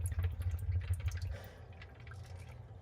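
Water drains from a Whirlpool refrigerator, a low steady gurgling flow with faint dripping above it, fairly close and a little louder at first before settling to a softer trickle.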